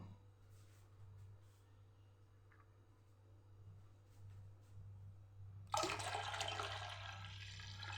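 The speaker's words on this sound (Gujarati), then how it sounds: "એમાં પાણી ઉમેરી દઈશું આપણે ઠંડુ પાણી" Cold water, about a litre and a half, poured into a bowl of spiced pani puri water with salt, a sudden loud gushing rush that starts abruptly after a quiet stretch and continues close by.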